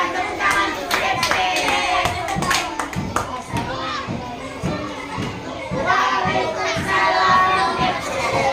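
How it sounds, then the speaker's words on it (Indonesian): Applause for a student group during a classroom practice session, with many hands clapping in a steady, dense patter while children's voices chatter and shout over it throughout. "tepuk tangan untuk DP"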